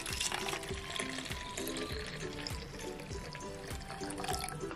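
Tap water runs steadily into a toy cauldron, a continuous close splashing and trickling that fills the whole moment.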